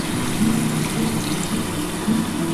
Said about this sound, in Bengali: আমি অল্প একটু জল দিয়ে দিলাম